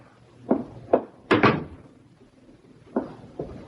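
A door in a 1970s radio drama opens and closes with a few distinct thumps and knocks, followed by a heavier slam near the middle, all fairly close and without talk.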